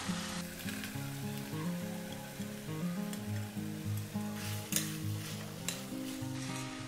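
Bottle gourd goes into a frying tomato mixture and sizzles steadily, a continuous loud hiss with stirring scrapes, under soft background music and no talking.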